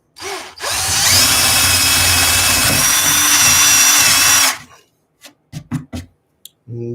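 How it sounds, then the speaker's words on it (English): A power drill bores holes for frog wiring on a model railway layout, a loud continuous whine held for about three and a half seconds, then stops, followed by a few sharp knocks and clicks. "Now I'm going to drill holes for the frog wiring to go."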